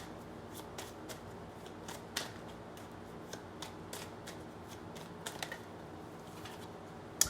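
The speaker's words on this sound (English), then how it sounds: "Last shuffle." Rapid papery riffling of a deck of cards being shuffled, with soft flutters and a few sharper snaps, quiet and close, no voices.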